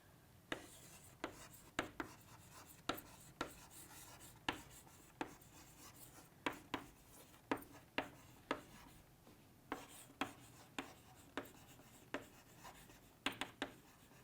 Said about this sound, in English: let me write it down again